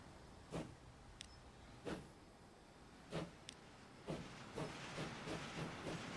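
Steam locomotive in the video game Transport Fever 2, giving spaced bursts of hissing steam chuffs that start slow and quicken toward the end, moderately loud over a low rumbling background.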